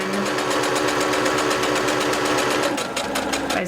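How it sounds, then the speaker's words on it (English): A sewing machine stitches fabric for a homemade face mask, its needle chattering in a fast, steady mechanical rhythm close by, with a brief slowdown near the end. "Basically I'm sewing sort of a rectangle."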